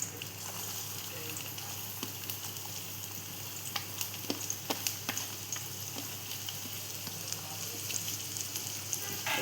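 Onion frying in a pan for a Marathi-style dried squid dish: a faint, steady sizzle with scattered crackles and light ticks, quiet and unaccompanied by talk.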